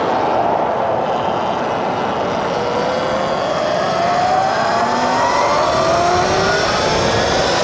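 Steady roar of traffic in a jam, with engines droning and cars passing close by, loud and continuous, heard from an e-bike rider's position with no talk.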